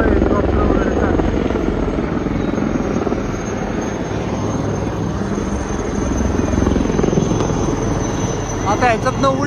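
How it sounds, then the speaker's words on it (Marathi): Army helicopter flying at an Army Day open-day show in Pune, a loud, steady rotor thump and engine roar that runs continuously throughout, with crowd voices faintly underneath. "त्याच्यामुळे हेलिकॉप्टर वगैरे चालू."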